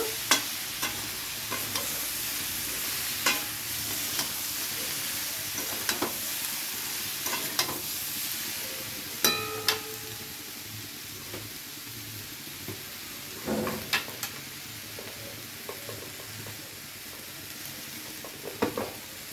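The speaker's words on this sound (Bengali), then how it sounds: "তো হলুদ দিয়ে আবারও একবার ভালো করে নেড়ে চেড়ে নেব" Mixed winter vegetables with turmeric are stirred in a frying pan, a constant sizzle broken by repeated scraping and clacking of the spoon against the pan, close and clear with no speech.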